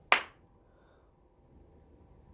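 A single sharp hand clap rings out close and crisp, then quickly decays into quiet room tone.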